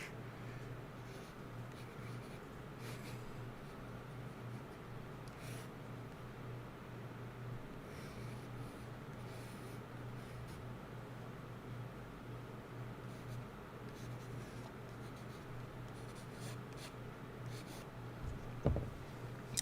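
A pencil sketches in a gray-paper sketchbook with faint continuous scratching and light strokes over a low background hum, closing with a small tap.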